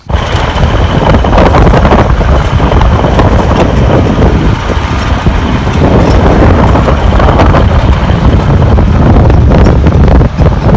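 Strong wind buffets the microphone outdoors on a trip to a highland pasture, a loud continuous roaring rumble that never lets up.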